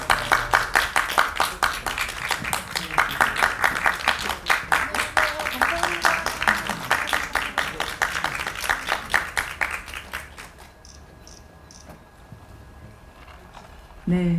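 Sustained applause from an audience at a Korean film press conference greets the director and actors as they come to the stage, dense and steady for about ten seconds before fading to quiet room tone.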